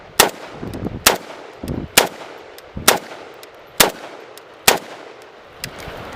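A Romanian CGR AK-47 rifle fires seven sharp single shots at roughly one-second intervals, each crack loud and close with a short decaying echo.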